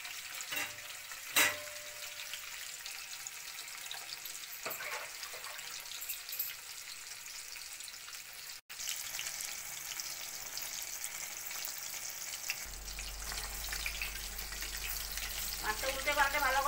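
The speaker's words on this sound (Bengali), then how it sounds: "মাছটা উল্টে পাল্টে ভালো করে ভাজা করতে লাগবে" Fish frying in hot oil in a pan, a continuous close sizzle with a few sharp clatters as the pieces are turned, a brief dropout midway, then a louder, denser hiss.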